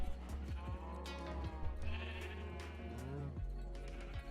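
Sheep in the video game Minecraft bleat in several overlapping wavering calls, close and fairly loud over a busy background of game sounds.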